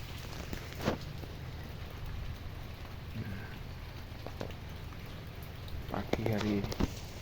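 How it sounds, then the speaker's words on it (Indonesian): Light drizzling rain in the early morning gives a steady, soft patter throughout, with voices talking faintly over it. "Nah, ini hujan rintik-rintik"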